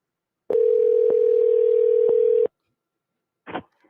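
A telephone dial tone when calling someone back: a steady electronic tone for about two seconds with faint clicks, then it cuts off, followed by a brief short burst.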